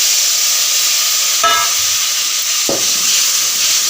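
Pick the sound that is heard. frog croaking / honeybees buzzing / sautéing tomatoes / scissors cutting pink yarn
sautéing tomatoes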